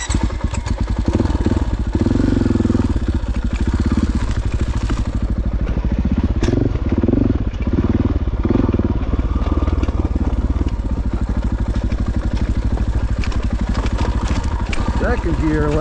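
A 2025 KTM 500 dirt bike on a mountain trail near Crested Butte, its engine close and loud, pulsing and revving through the gears, with rattling and clatter from the rough ground.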